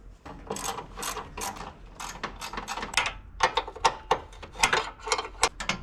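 A 10 mm ratchet wrench tightens parts on a Suzuki Cara, giving close, rapid bursts of sharp clicking in uneven runs with brief pauses between strokes.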